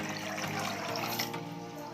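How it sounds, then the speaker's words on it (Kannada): Water is poured from a glass into a cooking pot, a steady splashing stream that runs without pause, moderately loud and close, with no voices. "ಒಂದು ಪಾತ್ರೆಗೆ ನಾನು ಈ ಗ್ಲಾಸ್ನಲ್ಲಿ 2 ಲೋಟ ನೀರು ಹಾಕ್ತಾ ಇದ್ದೀನಿ."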